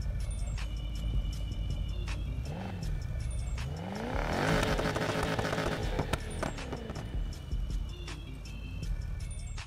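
Car engine idling in the Need for Speed Heat video game, a steady low rumble with a shaking, uneven pulse, rising briefly as revs climb and settle, with game music and effects layered over it.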